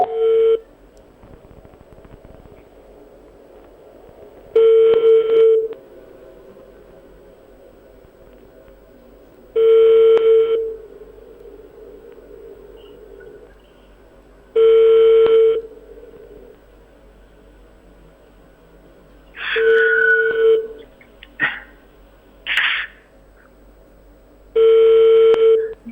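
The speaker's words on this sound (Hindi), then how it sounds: "जो इमरजेंसी नंबर दिया गया है उस पर बेल जा रही है।" Ringback on an unanswered call to an emergency number of Pakistan International Airlines: loud, steady electronic ring bursts about a second long recur roughly every five seconds, six in all, with brief extra blips near the end and no talk.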